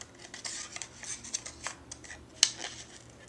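Scissors trim paper for a journaling page, with soft repeated snips and rustles at close range and one sharper cut near the end, quiet and with no voices.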